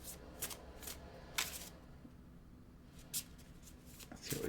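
Oracle cards being shuffled by hand in a quiet room, giving several short, crisp riffling bursts spaced a second or so apart, close and fairly soft, with no talking.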